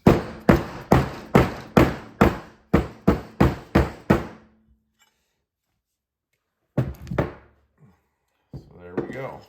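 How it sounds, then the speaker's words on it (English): A Porsche 944 brake caliper is struck during a rebuild to free its piston from the housing. About a dozen sharp, evenly spaced metallic knocks sound close, then silence, then a few more scattered taps and clatter. "piston assembly from the main housing. What we do, just give this a couple knocks."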